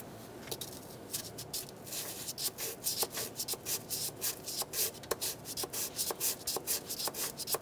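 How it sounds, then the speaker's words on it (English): A sanding block scrubs corrosion and black deposits from the metal knock sensor seat on a 2003-2008 Honda Pilot engine, making steady rhythmic scraping strokes, close and fairly quiet, with no talking. "we'll use this sanding block to sand down the top of this and get rid of any of this black stuff, any corrosion"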